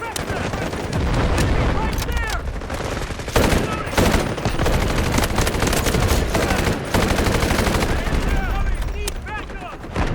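Sustained gunfire in the video game Delta Force: dense, loud bursts of machine-gun fire layered with booming blasts, continuous for the whole stretch and mixed with game chatter.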